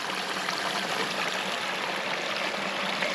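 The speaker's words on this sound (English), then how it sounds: "So now I will fill up my bottle so I can have some drinking water." Steady rushing water from a stream in Sweden flows close by as a bottle is filled, a continuous trickling stream with no voices.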